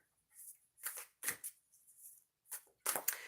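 A deck of oracle cards is shuffled by hand in a series of quick riffling bursts with brief pauses between, close and crisp, with no talking.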